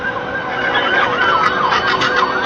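A loud wailing fire engine siren rises and falls continuously, close and steady, arriving at a large fire in Tondo, Manila, with traffic rumble beneath and no voices.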